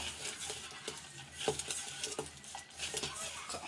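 Leftover cake crumbled into a mixture for pop cakes is stirred and mashed in a bowl, with soft rhythmic scraping and squishing strokes repeating up close at a low level.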